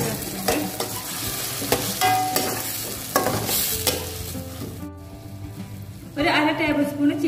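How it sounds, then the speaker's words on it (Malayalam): Vermicelli pasta stir-fried in a pan as soy sauce is poured in, with a loud continuous sizzle, repeated scraping stirs, a brief quieter moment, then a renewed burst of frying, and a voice talking over it. "ഇനി ഇതിലോട്ട് നമുക്ക് സോയ സോസ് ഒഴിച്ചു കൊടുക്കാം."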